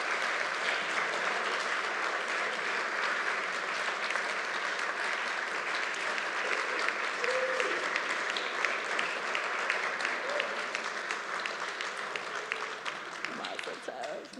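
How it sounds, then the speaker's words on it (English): An audience at a synagogue annual meeting and Erev Shabbat service gives sustained applause, steady and fairly loud for the full length, as honorees come forward. "And applause is okay."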